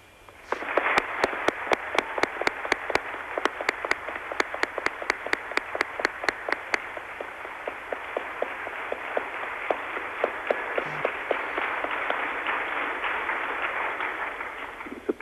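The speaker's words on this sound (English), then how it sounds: "Prime Minister, this last statement won terrific applause." Audience applause greets a statement at a teleconference with Prime Minister Shimon Peres, opening in a burst of sharp, rhythmic claps for about seven seconds, then settling into a steady, dense wash of clapping that fills the rest of the clip.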